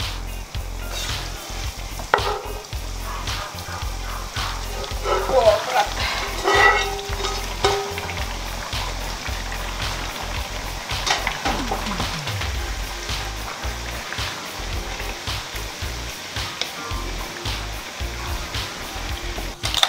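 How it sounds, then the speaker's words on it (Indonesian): Shredded chicken floss (abon ayam) fries in a pan while being stirred, giving a steady close sizzle with repeated scraping and clattering strokes throughout and no voices. "Kita goreng."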